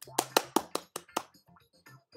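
Half a dozen sharp hand claps in an uneven rhythm, close and moderately loud, from a streamer at home, tapering into softer faint rustles and small handling noises.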